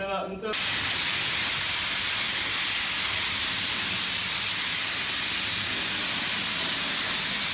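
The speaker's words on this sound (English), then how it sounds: "We've just applied a light mist over the surface to allow the Ector to bind to the surface." Ector RP50 sprayed as a light mist over a surface makes a loud, continuous hiss that starts abruptly after a brief moment and holds steady to the end.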